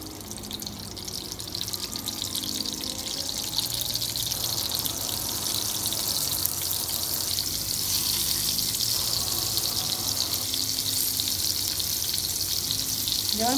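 Pointed gourd pieces fry in hot white and mustard oil in a wok, a loud continuous hiss and crackle that holds steady and grows slightly fuller as more pieces go in.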